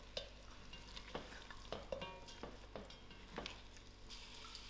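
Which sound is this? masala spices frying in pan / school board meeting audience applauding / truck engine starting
masala spices frying in pan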